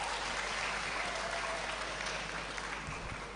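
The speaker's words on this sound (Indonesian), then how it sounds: "Sebelumnya kita tepuk tangan untuk IKIP Bojonegoro." Students give sustained applause for IKIP Bojonegoro at a campus discussion hall. The dense, even clapping fills the whole stretch and stays alone with no talk.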